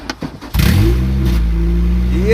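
A Honda B20B engine in a Civic EG roars as it starts up and revs with the exhaust unhooked, very loud and raw. It climbs sharply after a brief lead-in, then holds a steady loud drone.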